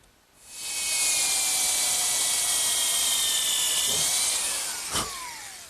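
Power drill boring a hole in wood for a bed bolt, a loud steady high-pitched whine that starts abruptly, holds for several seconds, then shifts in pitch near the end.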